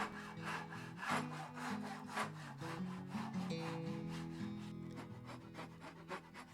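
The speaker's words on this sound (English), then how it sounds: "Now I take my Ryobi saw and cut it down to the rough shape" A Ryobi hand saw cuts through wood with steady, rhythmic back-and-forth strokes, about two per second, close and distinct, shaping a wooden handplane blank.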